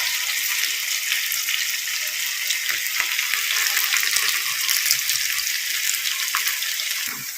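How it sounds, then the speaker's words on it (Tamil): Bitter gourd (pavakkai) deep-frying in hot oil gives a dense, continuous bubbling sizzle, with faint scattered clinks, alone without speech. "நான் ஃப்ரை பண்ணி எடுத்துக்கிறேன் அப்படியே."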